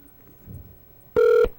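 A single steady electronic telephone tone, likely a touch-tone dialing beep, sounds loud and close for about a third of a second after a quiet room lull.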